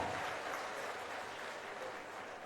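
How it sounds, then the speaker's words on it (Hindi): Applause from a government ceremony audience in Jharkhand, heard as a dense, steady wash of clapping at a fairly soft level throughout. "तालियां हो, तालियां जोरदार हो।"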